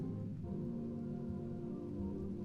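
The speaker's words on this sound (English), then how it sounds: "I don't want the rain effects, though." Rain sound effect layered into background music, a soft, even hiss that runs steadily throughout with no talking.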